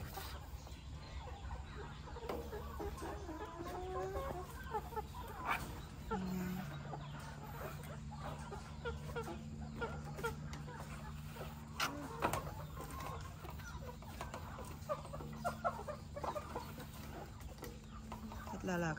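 A flock of about 150 young laying hens clucks and murmurs continuously at their first feeding, steady overlapping calls filling the background with a low mechanical hum underneath.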